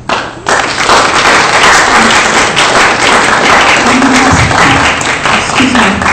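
Audience applause at a public testimony hearing on a GMO bill, a loud, dense crowd clapping that starts abruptly and carries on steadily, with a few faint voices mixed in.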